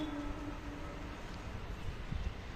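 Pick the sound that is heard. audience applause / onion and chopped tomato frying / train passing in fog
train passing in fog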